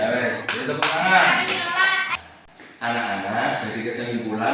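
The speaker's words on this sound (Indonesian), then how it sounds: "Beri tepuk tangan." Children clap together in a lively burst, pause briefly, then clap again, with voices mixed in the background of a fourth-grade classroom.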